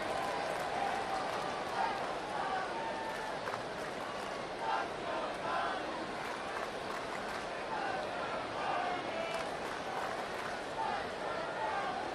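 Baseball crowd at a Cardinals vs Cubs game cheering and applauding after a home run, a steady dense roar of many voices filling the stadium, loud and continuous with shouts rising throughout.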